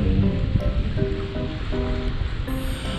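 Surf washes in steadily at the mouth of the Nanakita River in Sendai, a dense, continuous roar of ocean waves heard up close with broad wind-blown hiss and no voices.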